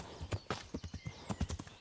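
Horse hooves clip-clop in a steady riding rhythm in Kingdom Come: Deliverance, a horse crossing woodland with repeated close, fairly loud hoof strikes and no talk.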